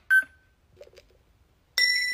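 A lie detector toy gives two short electronic beeps, one at the start and a longer tone near the end, separated by near silence.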